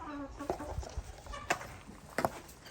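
Laying hens cluck inside a coop on a small farm in Ghana, several soft, close clucks and murmurs with a few sharper calls.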